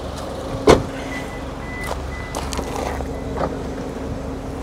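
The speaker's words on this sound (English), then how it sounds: "So I have to unlock the car, just give me a minute. Open the car, unlock it." A Maruti Suzuki Baleno RS is unlocked and opened: one sharp, loud click near the start, then a few softer clunks and rattles against a steady low outdoor hum.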